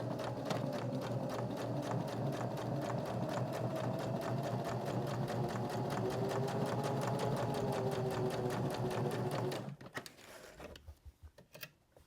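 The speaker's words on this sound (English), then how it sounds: "I'm going to stitch a little and then back stitch right here at the top of the pocket just to reinforce that a little bit." A sewing machine runs steadily, stitching then back stitching to reinforce the top of a pocket on a custom journal cover, a fast continuous needle rhythm for about ten seconds before stopping abruptly, with faint handling noise after.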